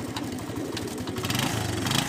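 A motorbike engine runs steadily while towing a pigeon cage along, a close, continuous mid-pitched drone with a slight pulsing rhythm that swells a little toward the end.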